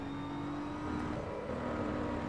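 A BMW M4 GT3 engine in the racing game Assetto Corsa Evo hums steadily at moderate volume, revs rising slightly midway, with no voices over it.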